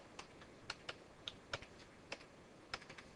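Keys on a computer keyboard are tapped at an uneven pace while text is typed, a dozen or so light, close clicks with short pauses in between, in a quiet room.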